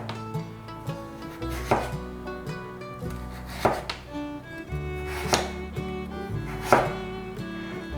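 A knife slices taro on a cutting board in steady, close, solid thunks every second or so over a continuous tonal background.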